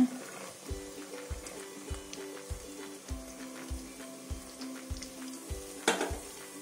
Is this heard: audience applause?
no